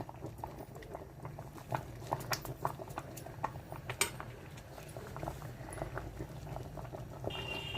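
A pot of thick sambar bubbles steadily, with soft irregular pops and gurgles close by over a low hiss.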